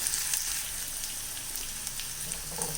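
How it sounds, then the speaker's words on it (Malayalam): Chopped onion and green chilli frying in a pan, giving a steady, moderate sizzle that runs evenly without pause and has a few faint crackles. "ഒരു ഹാഫ് സവാളയാണ്, അത് ചെറുതായിട്ട് അരിഞ്ഞതാണ്. അതിട്ട് കൊടുത്ത് ഒന്ന് മൂപ്പിച്ചെടുക്കാം."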